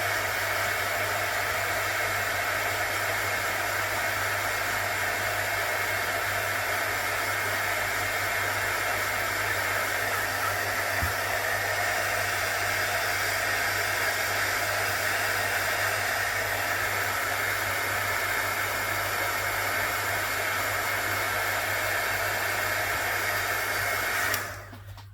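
A hair dryer runs steadily and close for the whole stretch, drying a reindeer craft with a constant loud whooshing blow that cuts off at the very end; no one speaks.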